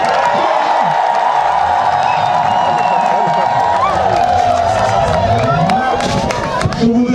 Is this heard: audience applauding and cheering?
yes